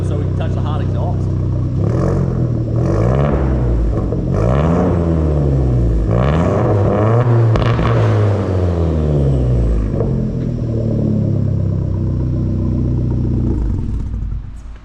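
Engine of a four-cylinder Genesis coupe with straight-piped exhaust, revved repeatedly: loud, close, raw rising and falling swells, several in a row, sustained throughout.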